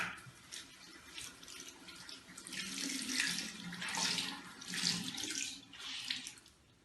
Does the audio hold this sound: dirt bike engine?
no